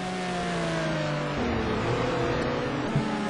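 Touring race cars at Anderstorp roar down the straight with steady high engine notes, one car's pitch dropping as it shifts, heard at full volume with no voices.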